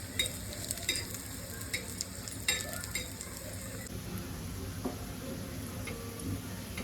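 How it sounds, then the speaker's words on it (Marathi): Two cloves dry-roasting in a pan for a home-style egg curry, with soft stirring scrapes and faint ticking crackles, quiet and close with no talk. "दोन लवंग, 2 मिनिटं याला लालसर भाजून घेऊ आपण."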